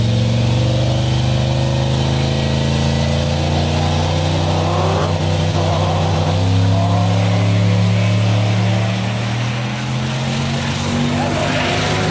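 A turbocharged Cadillac Escalade accelerates down a drag strip. The engine holds a loud, steady drone whose tones climb as it revs, with a shift-like break partway through, and the roar lasts the whole stretch with no clear speech over it.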